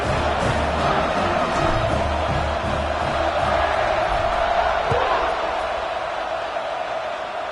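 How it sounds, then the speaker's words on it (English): A dense football stadium crowd buzzes and roars steadily after a score in a Michigan State versus Houston college game, a loud continuous wash of voices with occasional shouts from start to finish. "this crowd is buzzing after that last score"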